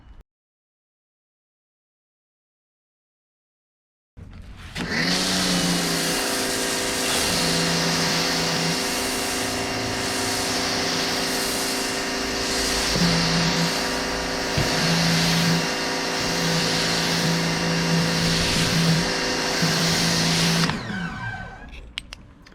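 Car being rinsed after a wash with Armor All car wash pods: after a few seconds of silence, a loud, steady humming motor drone with hissing water spray runs for about sixteen seconds, then cuts off.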